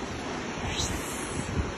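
Steady broadband roar of rushing water, continuous and fairly loud throughout, like the Bhange waterfall in Dandagaun, Nepal, heard close by.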